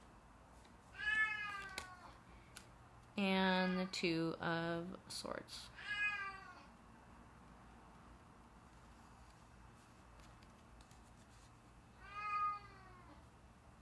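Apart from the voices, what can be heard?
cat meowing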